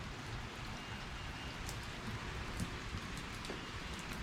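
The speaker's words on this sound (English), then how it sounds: "and it's raining" Steady rain patters and hisses continuously on surfaces nearby, with a few sharper drip ticks scattered through, fairly quiet overall.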